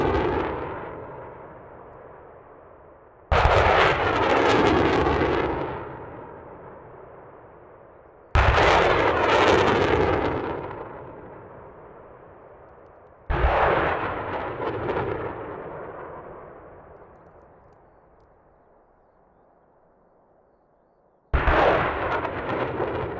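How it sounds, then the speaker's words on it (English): British and American multiple rocket launch systems fire missiles on a Swedish island during a paratrooper exercise, four loud roaring launches a few seconds apart, each a sharp blast trailing into a long fading rumble, with no talk. "British and American troops simultaneously firing missiles from their respective multiple rocket launch systems"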